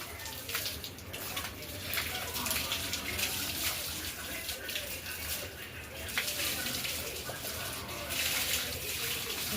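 Water splashing and pouring over a buffalo being bathed, a continuous close, fairly loud splashing rush with brief surges, under some talking.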